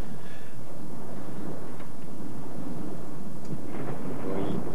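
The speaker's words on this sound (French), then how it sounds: "Il tonne, j'adore ça." Thunder rumbling through a storm, heard from indoors as a steady low roar with rain-like noise throughout, moderately loud and continuous with a few faint brighter cracks.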